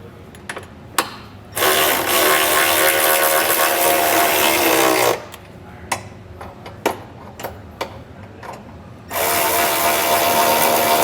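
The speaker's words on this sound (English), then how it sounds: "I like to use a socket to just run it down a little bit more" A socket wrench ratchets bolts down while a hidden trailer hitch receiver is installed on a 2018 Kia. Two loud, close bursts of rapid clicking are separated by a few isolated clanks.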